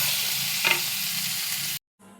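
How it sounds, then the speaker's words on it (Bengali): Pointed gourd (potol) pieces fry in oil with salt in a pan, giving a loud, steady close sizzle with a brief stirring scrape partway through before the sound cuts off abruptly near the end. "পটল ভাজতে দিয়ে দিয়েছি, লবণ দিয়ে দিয়েছি, পটল ভাজা হোক।"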